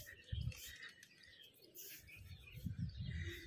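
Birds chirp and coo around a large bird house beside a temple, with several short bursts of calls and twittering, moderately near, over an outdoor background hum.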